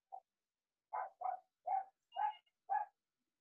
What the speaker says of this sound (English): My dog is going insane.